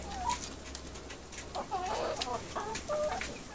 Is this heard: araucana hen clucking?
yes